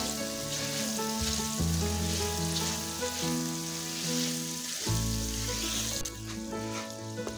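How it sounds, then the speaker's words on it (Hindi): Potatoes frying in a pan with cumin and spices for jeera aloo, a steady close sizzle running throughout beneath a prominent bed of tonal background music, with no talking. "मसाले के साथ आलू को अच्छी तरह से फ्राई करेंगे।"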